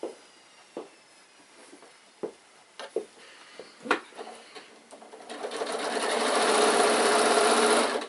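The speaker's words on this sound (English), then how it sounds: "So we're going to sew top stitch all the way down to the other end, folding all these edges in as we go." A sewing machine top stitching an insulated picnic bag: a few scattered handling clicks and short bursts, then a steady, close, whirring run of stitching in the second half.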